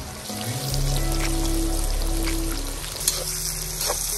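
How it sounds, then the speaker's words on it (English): Onions frying in hot oil in a kazan, a steady close sizzle with a low rumbling hiss and a few faint clinks of stirring, no voices. "Now we're gonna fry the onion for a little bit"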